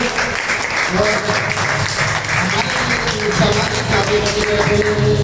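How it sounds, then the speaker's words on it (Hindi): Audience at a martyrs' day school event claps loudly for Kapil Dev Sharma, a steady dense patter of applause that continues throughout with some background voices mixed in. "कपिल देव शर्मा जी के लिए जोरदार तालियां।"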